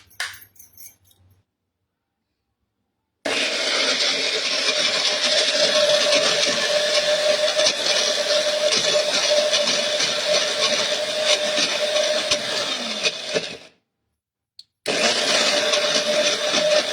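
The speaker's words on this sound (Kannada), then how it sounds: "ಈಗ ಇದನ್ನ ಮಿಕ್ಸಿಯಲ್ಲಿ ರುಬ್ಕೊಳ್ಳೋಣ." A kitchen mixer grinder grinds a spice paste for palak rice, a loud, steady motor whir running for about ten seconds, stopping briefly, then starting again for a short second burst.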